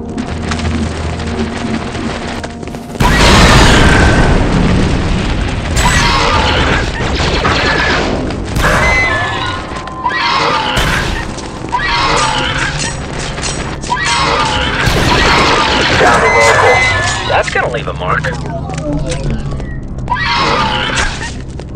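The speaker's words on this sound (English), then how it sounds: "Must be the battle upstairs" Explosions from a battle on the floor above in the shooter game Star Wars: Republic Commando come as heavy, loud booms and crashes, rolling on and off for about twenty seconds, with shouting and other game sounds mixed in.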